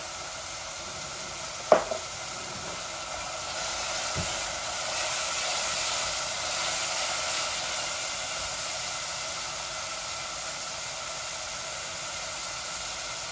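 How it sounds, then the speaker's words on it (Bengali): Crushed garlic, about a spoonful, hits hot oil in a pan while cooking a meat curry, giving a sharp little tap and then a steady, fairly loud broadband sizzle that holds for the rest of the clip with no talk. "এই যে ক্রাশ গার্লিকটা দিচ্ছি, 1 চামচের মতো দিয়ে দিলাম"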